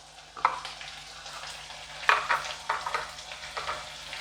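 A paste of ground cumin and dried chilli fries in a pan for khasta kachori, with a continuous close sizzle punctuated by several scraping stirs.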